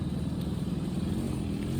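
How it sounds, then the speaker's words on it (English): A motorcycle rumbles steadily, close by and loud, with a continuous low engine drone that holds at an even level throughout. "It's a motorcycle."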